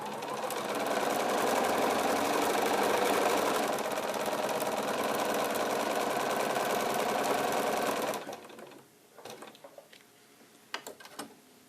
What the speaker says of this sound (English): I lay my other hand here and start sewing.